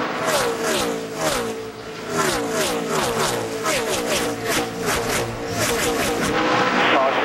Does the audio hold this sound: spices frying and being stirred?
no